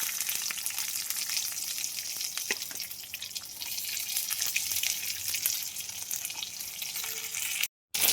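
Chopped onion fries in oil seasoned with five-spice (panch phoron), giving a continuous bright, hissing sizzle up close that holds steady throughout before a brief cut near the end.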